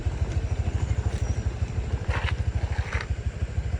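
A motorcycle travels close behind on a rough rural road in Anda, Bohol, its engine giving a steady, pulsing, low putter with some rattling throughout and no talk.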